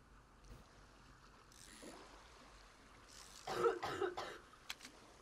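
A DayZ player character coughs a few times in short raspy bursts, fairly close, over a faint watery outdoor background near the sea.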